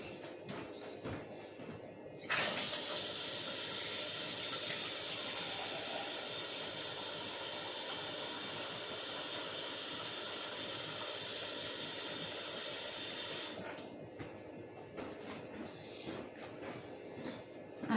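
Hot water dispenses with a loud, steady steam hiss that starts abruptly, holds for about eleven seconds, then cuts off, framed by quieter room noise and light handling sounds.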